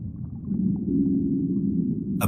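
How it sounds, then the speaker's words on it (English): A Bryde's whale approaching underwater gives a sustained low moaning call, fuller and louder than a distant whale, with brief pulsed notes over a steady rumble and a short sharp noise at the very end. "A brillo whale, and it is getting nearer."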